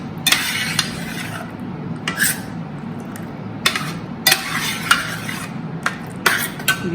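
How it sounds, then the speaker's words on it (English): Boiled pasta being stirred into a red and white sauce in a pan, a low simmering bed under repeated scraping and clinking strokes of a utensil against the pan, close by. "You take your pasta which you have boiled and throw it in, as much as you need. Go on mixing"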